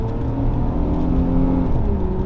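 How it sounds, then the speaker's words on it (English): An Infiniti G35 engine runs steadily at close range, its tone climbing and settling through mild revs with no pause in the loud, continuous drone. "That's that rev up, boy. Stop playing with that rev up."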